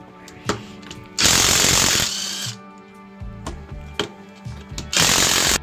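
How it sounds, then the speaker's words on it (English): Wheels come off a car with an impact wrench, which fires two long loud buzzing bursts and then a final burst, with short clanks and tool handling in between. "First we're going to take the wheels off."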